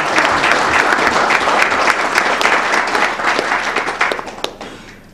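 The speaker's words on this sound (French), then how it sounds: "Applaudissez maintenant." Loud, lively applause from a gathering of officials and supporters for the Coton Sport football team in northern Cameroon, dense clapping with sharp individual claps standing out before it thins and fades at the end.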